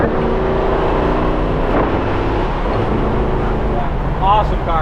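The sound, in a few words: 1967 Chevelle engine downshifting to third gear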